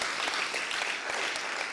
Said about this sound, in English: if we can make a very big round of applause for our keynote speaker and our panelists